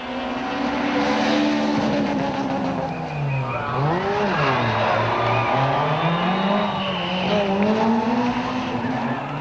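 Rally cars, including a Castrol Runex, race head-to-head around a narrow Subaru Super Special stage at the 2005 Sasol Rally, with loud revving engines sweeping up and down and squealing tyres throughout.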